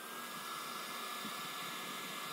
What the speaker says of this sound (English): Using a hair dryer,